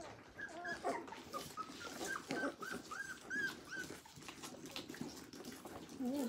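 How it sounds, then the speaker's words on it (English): A young puppy whimpers and yelps in high, wavering cries, close by and fairly steady, with faint splashing or rustling underneath. "Here's the puppy."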